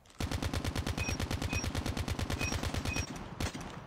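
The Arizona gun in Call of Duty Mobile fires a fast, evenly spaced automatic stream of loud shots for about three seconds, followed by one last sharp report after a brief pause.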